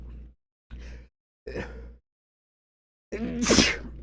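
Three short breathy bursts with pauses between them build up to one forceful, close sneeze at the end.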